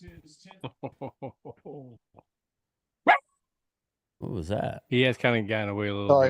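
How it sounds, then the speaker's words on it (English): A single sharp dog bark rings out midway, brief and fairly loud, with people talking before and after it. "that was my dog"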